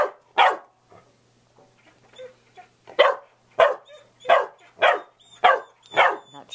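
A dog barks repeatedly, sharp and close, in an uneven series of loud yaps with short pauses and a few softer whimpers between.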